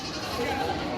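A goat bleats at a livestock show, one brief wavering call heard over a steady murmur of voices and crowd noise.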